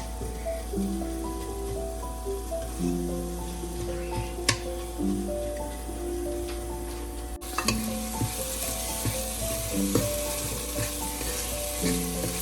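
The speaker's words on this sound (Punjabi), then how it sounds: "ਤੜਕਾ ਸਾਡਾ ਭੁੱਜ ਗਿਆ ਜੀ ਹੁਣ" A tadka for a Punjabi-style potato, carrot and pea sabzi sizzles steadily in a pan, with occasional stirring clicks under continuous background music.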